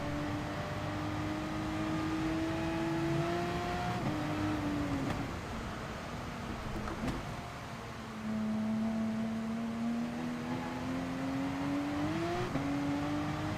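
A race car engine in the video game GT Sport drones under throttle, its pitch climbing steadily through gears with brief drops at shifts, a continuous, fairly even engine note with no talking.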